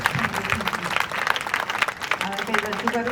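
An audience at a Gandhi fair gathering at Uka Tarsadia University, Maliba, claps in dense, continuous applause that fills the room, with a voice talking loudly over it throughout.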